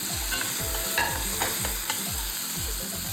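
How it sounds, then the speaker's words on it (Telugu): Spices, chopped tomatoes and onions fry and sizzle in a pan for Maggi noodles, a steady hiss broken by rhythmic scraping strokes of a stirring spoon, close and alone with no talk. "మసాలాలు బాగా ఫ్రై అయిపోయాయండి."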